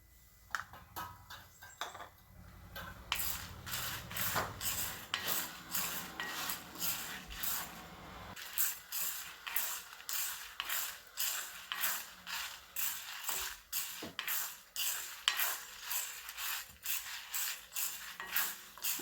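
Dry red chillies roasting in a pan for a lentil thuvaiyal are stirred with a utensil, making rhythmic scraping and rattling strokes. The strokes repeat steadily at close range and grow more regular as stirring continues.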